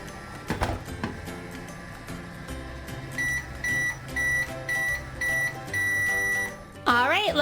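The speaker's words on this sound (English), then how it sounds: "We'll put him in our microwave." A Paw Patrol toy kitchen microwave runs with a tonal hum and a series of regular beeps, followed by a rising jingle, while someone talks briefly at the start and clatters the toy.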